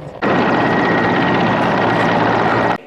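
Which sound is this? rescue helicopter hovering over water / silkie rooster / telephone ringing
rescue helicopter hovering over water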